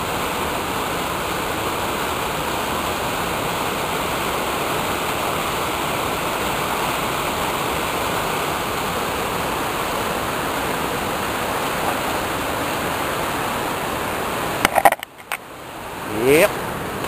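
Fast, high water rushes steadily and loudly, like a stream in spate, without a break for most of the time. Handling bumps and rustling noises interrupt it near the end.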